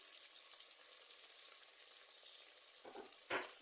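Ginger and garlic frying in hot oil in a pan, a soft steady sizzle with faint crackles, ending in two brief louder stirring scrapes close by.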